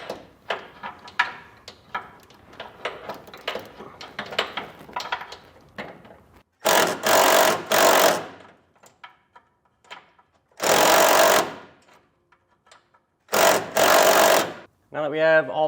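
Socket wrench with a 9/16 socket tightening a bolt during an Air Lift LoadLifter 5000 helper spring install on a 2016 Chevrolet, heard as repeated sharp ratcheting bursts after a stretch of speech and handling noise.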